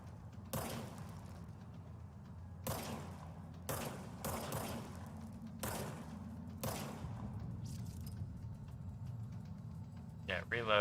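Service Weapon gunfire in the video game Control: sharp, loud gunshots fire singly and in short bursts at irregular intervals over a steady low game rumble, with someone talking throughout.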